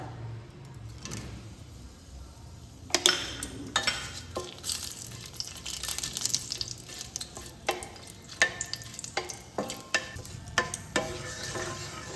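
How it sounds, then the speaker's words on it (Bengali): Two cardamom pods and a bay leaf fry in two spoons of hot ghee in a pan, a soft sizzle that jumps up with stirring and scraping clinks of a utensil against the pan. "ফোড়নও দিয়ে দেবো দুটো এলাচ একটা তেজপাতা"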